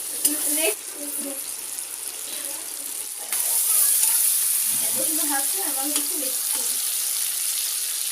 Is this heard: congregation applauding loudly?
no